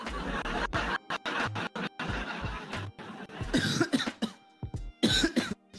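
A man coughs repeatedly in short bursts with throat clearing between them, fairly close and moderately loud, during a live streamed conversation.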